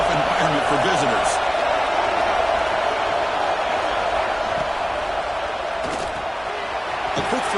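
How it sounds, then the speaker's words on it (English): A football stadium crowd roars steadily and loudly through the whole stretch, a dense sustained wash of noise early in a game, with a commentator's voice talking over it. "Listen to the crowd energy here in the early going."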